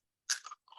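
A single crisp bite into spicy, crispy Chegodilu rounds, then a quieter crunch as it is chewed, close up and brief.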